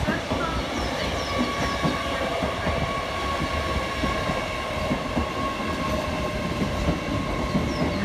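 An LNER Azuma passenger train, unit 801-228 with nine coaches, rolls past nearby through Durham with a continuous rumbling roar and faint metallic squeals, steady from start to finish.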